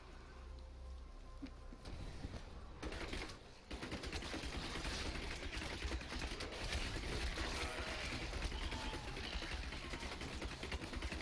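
Rapid-fire crossbow bolts in the video game Diablo 3 make a dense, continuous rattle of quick shots that runs steadily for several seconds at a fairly even loudness, after a brief pause near the start.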